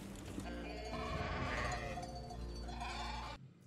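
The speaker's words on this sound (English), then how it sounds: "I am thankful for the goats for bringing a smile on my face" Goats bleating in a war movie scene, several loud overlapping cries with steady low rumble beneath, cutting off abruptly at the end.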